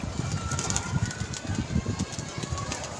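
A flock of pigeons at a pigeon club coos in a low, continuous burbling murmur, close and steady.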